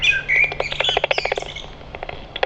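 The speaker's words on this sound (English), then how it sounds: "the blackbird singing mournfully of the passing of the daytime" A blackbird sings at dusk along the Thornham walks: a close, bright run of fluting phrases and quick chirps, pausing briefly before a few more notes at the end.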